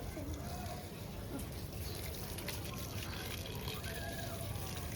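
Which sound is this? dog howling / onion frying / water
water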